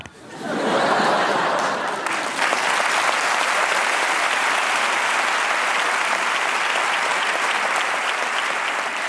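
Sustained audience applause at a televised stand-up comedy show, a dense, loud wash of clapping that swells within the first second and holds steady throughout, with faint chuckles mixed in.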